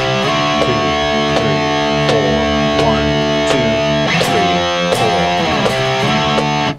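A distorted electric guitar plays a two-bar rock/metal riff of sliding power chords, loud and dense, with sharp repeated pick attacks and slides cycling back around.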